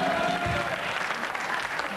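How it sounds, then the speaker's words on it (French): A short burst of audience applause, dense steady clapping from a crowd filling the whole moment. "Maître Simonin, c'est vos applaudissements, s'il vous plaît, maître Simonin."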